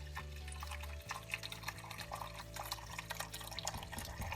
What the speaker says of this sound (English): Give it a pour. Don't pour so fast you pour the fat over the top